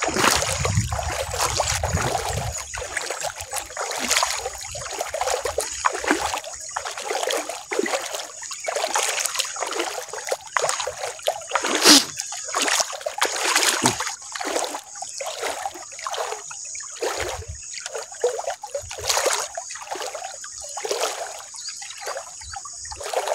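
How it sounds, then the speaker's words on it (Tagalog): A clear stream trickles and splashes close by, with irregular gurgles and bursts of running water continuing throughout, fairly quiet and with no voices over it. "Linaw ng sapa."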